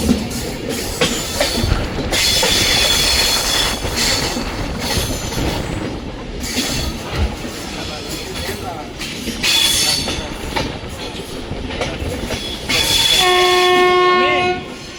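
Steady rumbling clatter of a train running on tracks toward Araku and Borra Caves, with intermittent wheel squeals, ending with a loud sustained horn blast.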